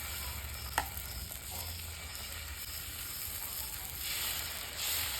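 Kambu (pearl millet) dosa batter sizzles on a hot pan with a steady, moderate hiss. A sharp click comes early, and the sizzle swells slightly toward the end.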